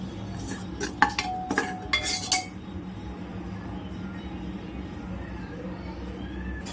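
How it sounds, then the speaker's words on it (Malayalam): A utensil stirs vegetable pulao in a pan, with several quick metallic clinks and scrapes in the first couple of seconds, then a quiet steady background sizzle. "നല്ലോണം അങ്ങോട്ട് ഇളക്കി കൊടുക്കാം."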